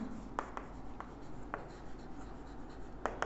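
Chalk or marker strokes on a board as a maths definition is written out, a few distinct short scratchy marks spaced irregularly, faint and close in a quiet room with no talking.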